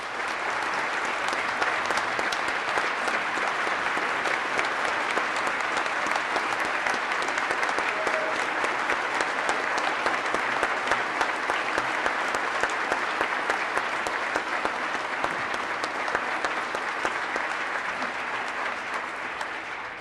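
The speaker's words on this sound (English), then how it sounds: "So let's give him a round of applause." Sustained applause fills the Minnesota House chamber, a broad, even wash of many hands clapping from a large assembled crowd, steady and loud for the full duration without any speech over it.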